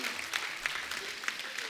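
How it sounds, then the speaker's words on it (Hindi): Studio audience applause on a Hindi TV comedy show, a steady wash of clapping with a few sharper claps standing out, moderately loud and continuous through the short stretch, with voices mixed underneath. "जोरदार ताली।"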